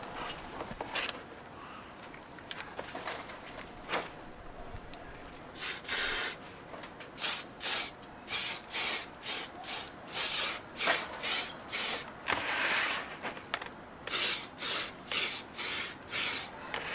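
Short hissing bursts of spray paint coat a car's rear bumper, coming in a regular series of about a second each after a few scattered faint bumps, close and fairly loud.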